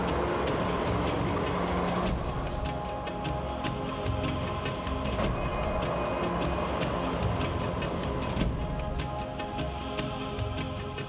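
A new National Rail diesel locomotive train passes close by, giving a loud, steady rumble with rhythmic clickety-clack of wheels on the rails throughout.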